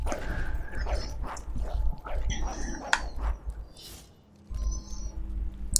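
Dog barking, yipping and whimpering in the video game Fable III, short repeated cries mixed with game sounds and a steady low rumble.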